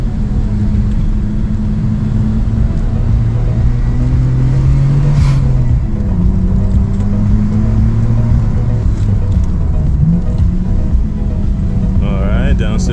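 Nissan R34 GTR engine on a Mt Fuji hillclimb, a loud, steady onboard drone whose pitch climbs and drops through shifts, including a downshift to first gear, with a voice talking over it.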